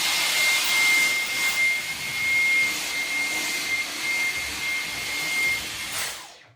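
A Dyson V15 Detect cordless vacuum cleaner runs close by with a loud, steady high-pitched whine and airy rush, wavering slightly in strength before winding down at the end.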